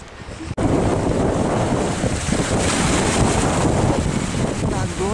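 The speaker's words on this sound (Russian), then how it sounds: "Такой ветер, я замерзла." Strong wind roars into the microphone at a rocky Greek seaside with open sea nearby, a constant loud buffeting rush with a brief dropout early on.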